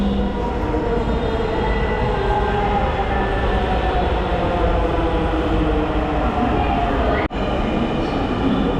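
A metro train rumbles loudly and steadily at Pallabi metro station, with one brief dip in the noise near the end.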